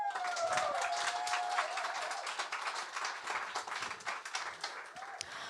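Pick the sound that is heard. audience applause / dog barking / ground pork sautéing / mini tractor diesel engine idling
audience applause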